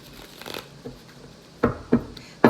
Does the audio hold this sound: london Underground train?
no